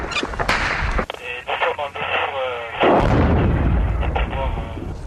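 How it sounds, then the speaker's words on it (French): RPG-7 rockets slam in during a firefight in Afghanistan with French Foreign Legion troops: loud, harsh blasts and cracks follow one another, mixed with shouting voices and radio chatter. "C'est des arrivées de RPG-7 ça."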